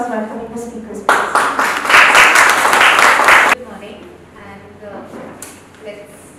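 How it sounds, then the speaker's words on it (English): An audience bursts into applause welcoming speakers at a convent gathering, a loud burst of clapping lasting about two and a half seconds and then cutting off, with a person talking before and after it. "can we have an round of applause welcoming the speakers, please?"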